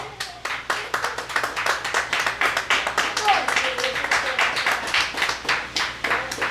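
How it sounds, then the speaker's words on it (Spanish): A church congregation applauding during a sermon, sustained rhythmic hand clapping at moderate loudness with regular pulses throughout, voices faintly mixed in. "Denle un aplauso, Señor."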